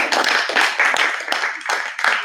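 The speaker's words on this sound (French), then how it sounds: "des applaudissements au tuto, ça fait du bien" A small group applauds a live tutorial, with close, bright hand claps running steadily together for a couple of seconds.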